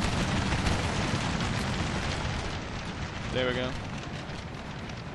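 Cannons firing canister shot in a Napoleon: Total War battle: a dense, loud, unbroken roar of booming gunfire that fills the whole stretch, with a voice speaking briefly over it.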